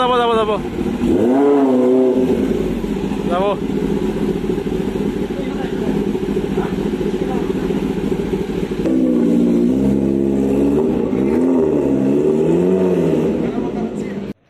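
A motorcycle fitted with a free-flow Austin Racing exhaust revs close by, rising and falling in throaty bursts over a steady idle, while someone talks loudly over it throughout.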